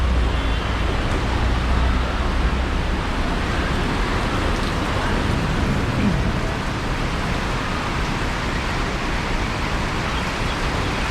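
Heavy rain pours at Hua Lamphong railway station in Bangkok, a dense, loud and constant hiss with a low rumble beneath it.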